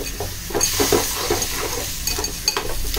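Clams (shivlya) being sautéed in a pan hiss with a steady sizzle, broken by a run of soft, close scraping stirs. No one speaks.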